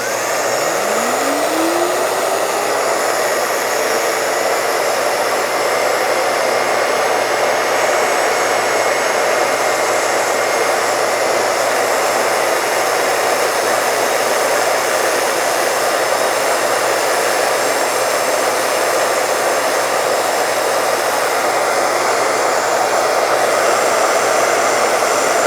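A K-9 dog dryer blower roars loudly and steadily after a brief rising spin-up whine, then holds a continuous, close airy rush for the rest of the time.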